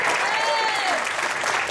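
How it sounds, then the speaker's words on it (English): An audience at a pre-college jazz concert applauds in a steady, dense burst of clapping that fills the whole short stretch, loud and close. "a round of applause for Jared Kozinski on the drums."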